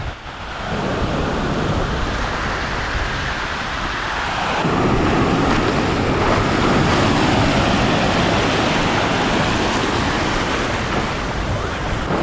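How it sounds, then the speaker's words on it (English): Ocean waves roll onto a beach in Da Nang, Vietnam, in a loud, continuous roar of surf mixed with wind buffeting the microphone. The wash swells and builds steadily across the stretch with no talk. "let's see what this ocean is like"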